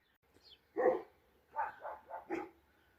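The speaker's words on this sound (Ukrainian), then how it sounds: "Це ж собаки не просто так гавкають, це вже відчувають кабанів." Dogs barking at a distance: one bark, a pause, then a quick run of four barks, with no talking.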